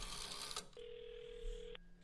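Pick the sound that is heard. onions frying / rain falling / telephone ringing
telephone ringing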